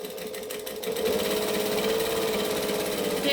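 Sewing machine stitching the edges of fabric pieces placed right sides together at a 2.5 stitch length, a short burst of needle clatter, then a steady fast whir that runs on close and loud.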